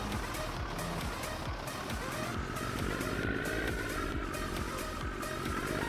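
A loud truck engine drives steadily and close, a rough low rumble that holds on without a break for the whole stretch.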